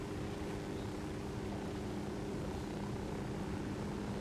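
A helicopter drones steadily in the Ghost Recon Wildlands game, its rotor and engine a constant dense rumble with a low tonal hum, filling the whole stretch without pause or speech.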